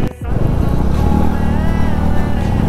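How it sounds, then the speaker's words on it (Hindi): KTM RC 390 motorcycle engine riding on a highway through a tunnel, a loud, continuous buzzing drone held steady at close range, with wind rush and no speech over it. "एंड इस बाइक की साउंड सुनना भाई, एमटीवी की क्या ही साउंड आएगी।"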